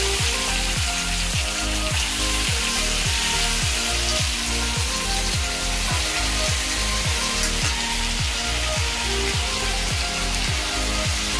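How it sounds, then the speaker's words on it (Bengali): Fish frying over a high gas flame for a crumbly fish fry, a dense, loud, continuous sizzle with a regular repeating clatter beneath it, close and steady, with no voices. "মাছের ঝুরঝুরি ভাজাটা করার সময় না গ্যাস প্রেশার হয় হাই ফ্লেমে রাখতে হয়"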